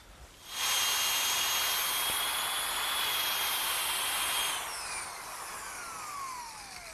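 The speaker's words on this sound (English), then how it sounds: "this little drum sander attachment that fits on my drill does a great job at sanding out these edges" A drill fitted with a drum sander attachment sands the cut edges of wood pieces, spinning up to a loud, steady high-pitched whine, then winding down with a falling pitch once it lifts off the workpiece.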